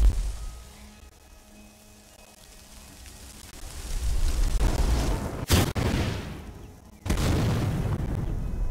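A spell explodes in the video game Skyrim: a rushing, rumbling wash of noise builds, then two sharp, loud blasts crack out a couple of seconds apart.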